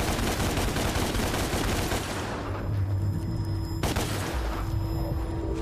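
Rapid gunfire in the video game DmC: Devil May Cry: a dense, continuous volley of loud shots for about two seconds, then a lower rumbling barrage with a sharp crack partway through, steady and close throughout.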